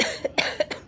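Harsh, repeated coughing from a person with a persistent cough while receiving an IV fluconazole antifungal transfusion, several short close bursts in quick succession.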